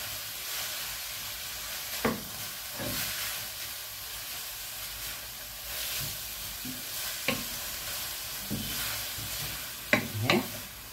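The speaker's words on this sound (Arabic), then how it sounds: "نبدا نشوح برضه." Meatballs with carrots and other vegetables sauté in a pan with a soft continuous sizzle, marked by occasional scraping clicks as the food is stirred.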